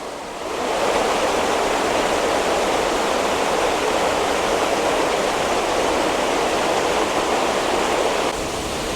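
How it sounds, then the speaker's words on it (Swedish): Water rushes down a mill channel beside an old mill wheel in Norway, a steady close hissing flow that swells in after a moment and holds without talk. "Här rinner det ner vatten."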